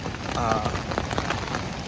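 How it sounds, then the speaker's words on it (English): Steady rain patters on a hiker's gear in a wooded area on the Appalachian Trail, a dense, continuous hiss of drops with some louder nearby hits throughout. "The rain's actually picking up right now, which is actually not great."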